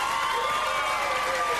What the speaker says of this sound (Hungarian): Csináljuk ezt még egyszer, egy kis tapsot kérek szépen.